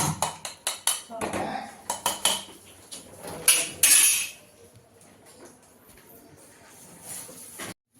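A spoon scrapes and clinks rapidly against a pan while rajma is stirred with butter and garam masala, loud metallic taps in bursts that give way to quieter stirring, with a voice speaking in between.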